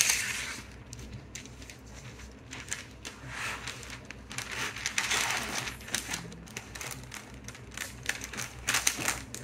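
Crisp paper crinkling and rustling in a quiet room, with intermittent crackles and soft handling noises, close up.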